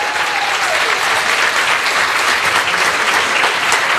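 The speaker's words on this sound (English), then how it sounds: "One last round of applause," Loud, steady applause from a seated audience closing an evening event at the Wilmington Public Library, dense clapping filling the whole stretch without a break.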